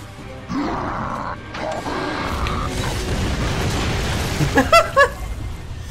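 Mortar explosions in the Gears of War 2 video game: a low rumbling boom with debris, followed around the fifth second by a few sharp, loud bursts over continuous battle noise.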